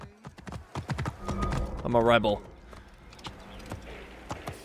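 Sharp rhythmic hoofbeats of a horse moving at pace in the video game Assassin's Creed Origins, close and clear, with someone briefly speaking over them.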